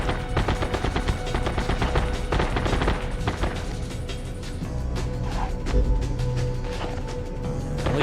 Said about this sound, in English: so where are people shooting from?